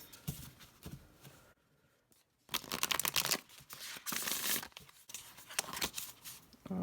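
A tarot deck being shuffled by hand, repeated crisp riffling and card-slapping bursts close up, with a short pause in the middle and no talking.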